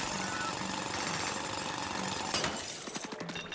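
A drill grinds steadily in the video game Splatoon Raiders, a loud, dense mechanical churn that runs throughout, with a sharp burst and crunching hits near the end.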